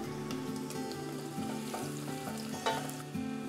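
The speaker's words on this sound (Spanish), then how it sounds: "Una vez que la grasa está caliente, agregamos la cebolla y el ajo." Onion and garlic fry in hot fat in a pot, giving a continuous soft sizzle under steady background music.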